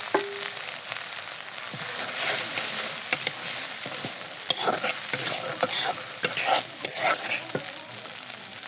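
Chickpeas are stirred into a spiced masala in a hot pan, a dense continuous sizzle with frequent scraping and clicking of the spoon, loud and close throughout with no speech.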